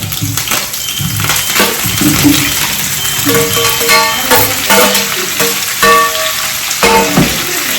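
Onions and cashews fry in a pan with a steady, dense crackling sizzle close by, and tonal background music plays along with it.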